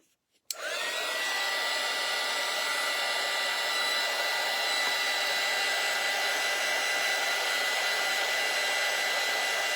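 A hair dryer switches on with a click and then blows a loud, steady whooshing drone without break while drying a bunny craft, with no talking.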